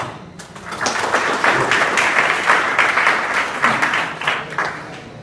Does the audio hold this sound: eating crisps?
no